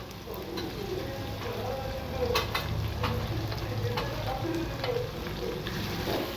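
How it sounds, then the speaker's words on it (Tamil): Onions and tomatoes with pepper and cumin sauté in a pan, giving a steady close frying sizzle with scattered scrapes and taps as the mixture is stirred throughout. "நல்லா கிண்டி விட்டு நல்லா வதக்கி விட்டுக்கலாம்."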